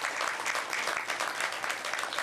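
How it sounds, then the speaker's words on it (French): Dense audience applause at an award ceremony honouring decorated recipients, a continuous wash of many hands clapping at moderate distance, steady throughout the short stretch with no clear voices. "je vous demande de les applaudir très très fort"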